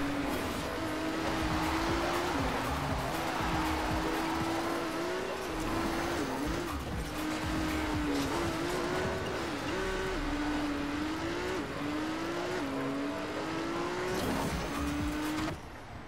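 Racing cars in Trackmania Turbo on PS4 drone steadily with a constant engine whine, pitch stepping up and dropping with each gear shift, alongside occasional tire squeal under faint game ambience.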